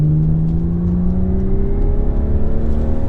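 A 2015 BMW 535xi's inline-six engine pulls hard in sport plus mode, a loud, smooth rising drone heard from inside the cabin as revs climb steadily throughout.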